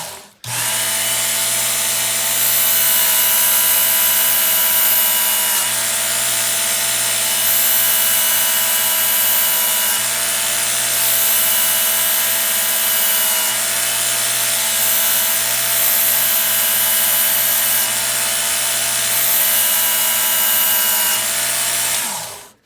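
A Work Sharp electric knife and tool sharpener grinds a knife blade, a steady high-pitched whine with a constant motor hum running loud and close for over twenty seconds, no voices.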